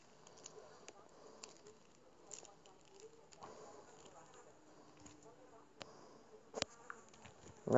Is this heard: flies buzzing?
yes